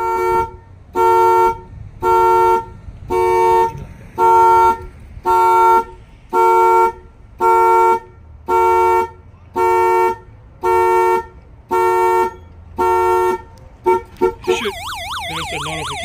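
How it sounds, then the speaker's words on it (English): An alarm on an antique car sounds its horn in a regular series of about eleven loud, evenly spaced honks, then breaks into a few quick blips before a warbling electronic siren takes over. "If somebody opens the door or bang on the vehicle, the alarm will fire off."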